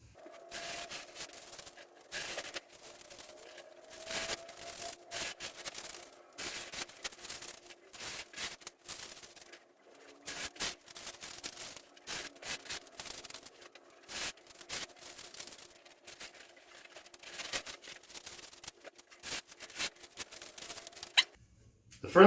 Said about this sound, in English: I'm going to strip away the painter's tape and we'll see how the striping went.